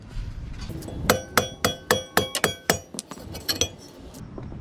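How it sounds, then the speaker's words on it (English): Repeated metallic hammer strikes knock at a stuck rear brake rotor on a 2012 Subaru Outback, about a dozen sharp ringing clanks at an uneven pace, close and loud. "so you're gonna have to hammer it."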